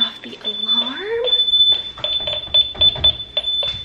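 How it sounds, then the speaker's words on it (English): An alarm beeps in steady, rapid high-pitched pulses while someone talks over it in a home vlog setting, the beeping continuing under the voice until it is switched off. "Turn off the alarm."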